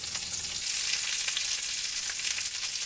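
Salmon searing skin-side down in a hot pan, a steady, close, dense sizzle and crackle that runs unbroken throughout with small spitting pops and no voices.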